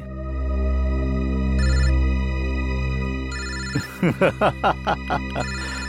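A phone ringtone plays a steady electronic tone with brief repeated bursts, then a quick series of six short chimes at the end; no talking.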